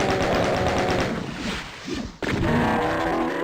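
A chain gun in a first-person shooter game rips off a loud, rapid burst of shots aimed at a Baron, stutters to a brief halt, then resumes continuous fire with no voices.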